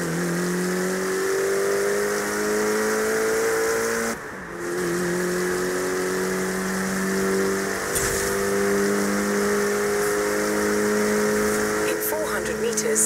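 A car engine in the Forza Horizon 3 racing game drones and revs steadily for about thirteen seconds, holding a sustained tone that shifts pitch in stages as the car shifts gears. A brief dip comes near four seconds.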